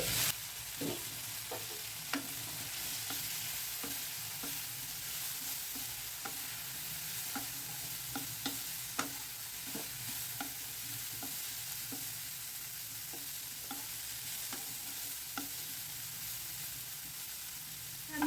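A steady sizzle of green milkweed flowers stir-frying in a pan with salt, with repeated light scrapes and clicks of a utensil stirring throughout; no voices.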